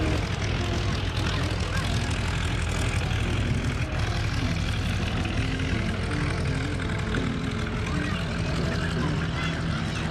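A propeller aerobatic airplane roars steadily overhead, circling high at an air show in Culpeper, loud and continuous, with a voice faintly talking beneath the engine noise.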